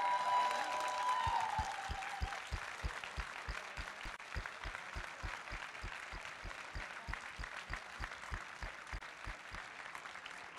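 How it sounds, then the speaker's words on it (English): A large audience at the Helsinki Longsword Open 2024 tournament finals claps steadily and loudly, a dense sustained applause that tapers slightly but continues throughout. "please give every staffer, table, medic, armband, and everybody else a big hand of applause"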